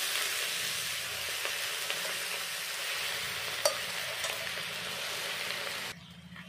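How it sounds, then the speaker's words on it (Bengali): Chopped taro leaves with turmeric are stirred as they fry in a pan, making a soft, steady sizzle with one sharp utensil knock midway, before the frying sound cuts away near the end. "দিয়ে এবার নেড়ে চেড়ে নেব"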